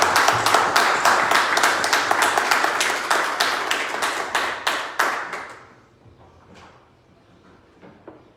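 A congregation at a Sunday church service claps in a loud, rhythmic series of sharp hand claps for about five seconds. The claps then thin out into a few scattered, quieter ones.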